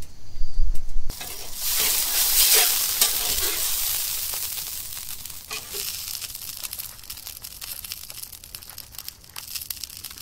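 Hash browns sizzle in hot oil, a bright hissing that starts loudly after a brief thump and then settles into a steady, slightly fading fry.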